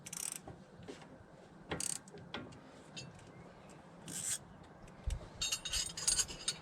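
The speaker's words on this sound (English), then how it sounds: "I'm going to be a little lazy and rely on the ratchet to do all the tightening for me" A ratchet tightens a hex 5 bolt on a Volvo front anti-roll bar, giving short bursts of close metallic clicking with rubbing and pauses between strokes.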